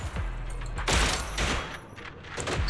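Sniper rifle shots in Zenless Zone Zero go off as several sharp, punchy cracks close together over a busy game soundscape, with no talking.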